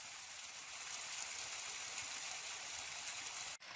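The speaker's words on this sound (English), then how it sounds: "here's a better shot of that 5th little waterfall in La Madre Springs Canyon" A small waterfall in La Madre Springs Canyon gives off a steady, even rush of falling water, constant and fairly soft, with no voices.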